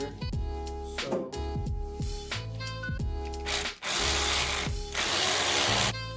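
An 8 mm hose clamp is tightened on an intake coupler on a BMW 340i, producing a rapid series of close ratcheting clicks followed by bursts of a whirring power driver.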